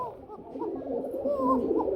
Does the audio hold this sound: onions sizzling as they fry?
no